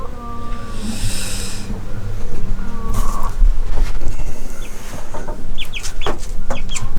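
Chickens, including a rooster and a chick, cluck and call repeatedly nearby, with scattered sharp chirps and a steady hiss of background noise throughout.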